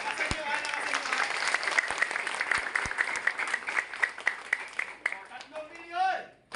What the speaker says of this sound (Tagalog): Sige nga, palakpak ito.